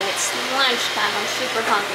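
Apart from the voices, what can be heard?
robot vacuum, vent fan and microwave running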